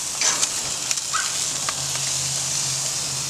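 Seasoned steaks sizzle steadily on a hot cooking surface just after the first flip, a continuous close hiss with a few soft scrapes near the start.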